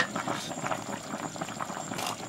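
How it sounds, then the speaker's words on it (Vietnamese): Chicken and potato stew simmering and bubbling in a pot, a steady close burble of boiling liquid with irregular pops, no voices. "Sôi khoảng 5 phút nữa là gà và khoai đã mềm"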